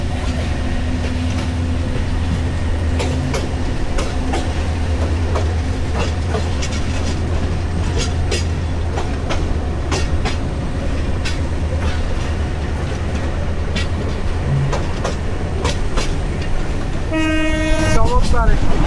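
Mohonganj Express 789 passenger train running on rails past Bhawal Gazipur station, heard from inside: a steady rumbling roll with rhythmic clicking of wheels over joints, and a loud horn blast near the end.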